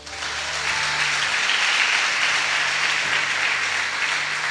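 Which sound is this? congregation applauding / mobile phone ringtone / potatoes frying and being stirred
congregation applauding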